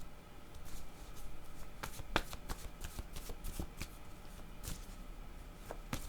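A deck of cards is shuffled by hand for a card reading. The riffling and slapping come in dense, close bursts that run throughout, faint and without talk.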